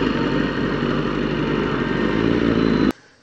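A BMW S1000RR superbike's engine and exhaust while riding, a loud, steady high-revving drone that holds for about three seconds and then cuts off abruptly.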